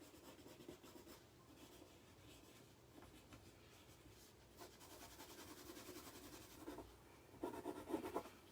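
Pencil strokes on paper, soft scratchy rubbing and shading strokes that come in bursts, faint and close, getting busier toward the end.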